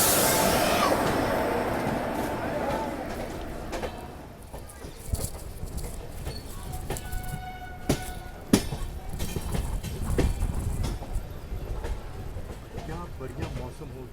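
An express train rolls slowly through Agra Cantt station, heard from on board with rumbling wheels, rhythmic clacks over rail joints and a few sharp metallic knocks, amid a busy platform hum and background voices.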